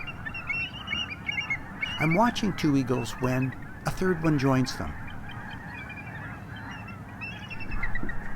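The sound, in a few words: snow geese honking on tidal flats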